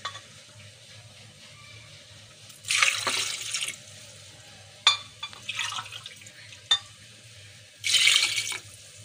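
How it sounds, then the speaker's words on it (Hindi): Water from a small glass is poured into a pot of plums for chutney in a home kitchen, with three short splashing pours separated by quiet gaps, plus faint clinks. "2 गिलास पानी के ऐड कर दें।"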